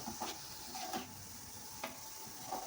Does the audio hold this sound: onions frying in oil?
yes